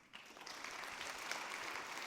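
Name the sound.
conference audience round of applause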